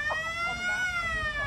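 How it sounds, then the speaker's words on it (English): A loud steady siren with a long sustained tone marks the start of a quarter at a women's Australian football match between Killarney Vale and Wallsend-West Newcastle, with a commentator talking over it. "Siren goes."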